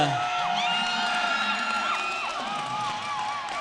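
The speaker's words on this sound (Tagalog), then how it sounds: "And the crowd loves that point" Spectators at an inter-town men's volleyball tournament cheer loudly after a point, with whoops and high-pitched shouts rising over a dense, sustained roar.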